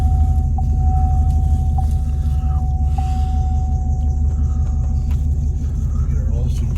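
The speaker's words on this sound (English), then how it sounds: "This ungodly loud truck." A loud, deep LS V8 truck engine rumble drones steadily throughout, close by, with a constant low throb and a faint tone above it.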